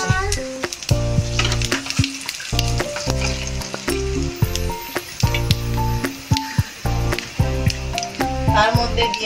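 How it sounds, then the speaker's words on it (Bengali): Dried chili, cumin and bay leaf sizzle in hot oil as tempering for a hilsa-head and taro-leaf dish, a steady crackling hiss running under loud, continuous instrumental music. "তারপর তেলের মধ্যে দিয়ে দেওয়া হচ্ছে শুকনো লঙ্কা, জিরে, তেজপাতা, এগুলো ফোড়নে দেওয়া হচ্ছে।"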